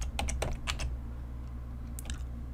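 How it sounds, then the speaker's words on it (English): Typing on a computer keyboard while entering Excel VBA code: quick, close, distinct key clicks in short bursts, with a pause before a final flurry over a steady low hum. "all we need to do is type range"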